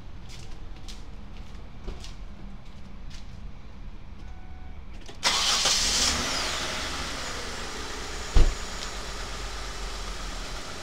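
A car engine cranks and catches partway through, then settles into a steady idle with a brief clunk near the end, heard close during a battery and alternator test.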